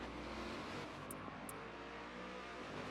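Race cars, including a Chevrolet DPI prototype, lap Laguna Seca in a racing video game, their engines a faint, continuous rasping drone that is steady and slightly distant.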